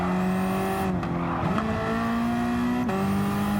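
A Ford Focus world touring race car engine revs hard and continuously, a loud, angry, rising and falling whine. Quick dips between gear changes break the sustained howl, and no voices are heard.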